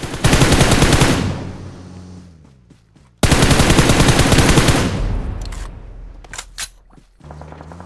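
Gunfire in the mobile game BGMI: two loud bursts of rapid automatic fire, each trailing off, followed by a few sharp single shots and then more firing.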